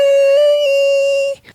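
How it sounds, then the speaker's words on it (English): A sung falsetto note run through the autotune effect of a Maonocaster AME2 audio interface, held steady and loud with a flat, robotic pitch for about a second before cutting off. "moving on to another fun bit of this interface is the autotune function"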